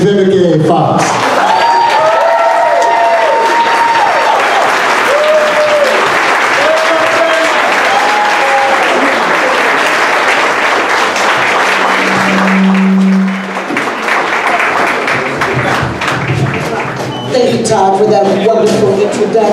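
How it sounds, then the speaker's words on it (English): A gala crowd at a breast cancer foundation premiere rises in loud sustained applause and cheering for actress Vivica A. Fox, with whoops and shouted voices over dense clapping, a brief dip midway, then the ovation swelling again. "I want you guys to stand up and give a round of applause to an iconic actress."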